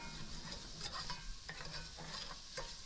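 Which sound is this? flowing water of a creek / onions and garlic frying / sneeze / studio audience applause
onions and garlic frying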